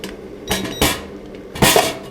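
Oven drawer being pulled out of a mini 3D sublimation heat press machine: a few sharp metallic clanks and rattles, close and distinct, spaced across a short moment.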